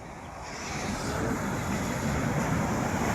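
Sea waves at Kollam beach in Kerala, a steady broadband surf wash that builds slightly and holds, with wind noise over it and no talking.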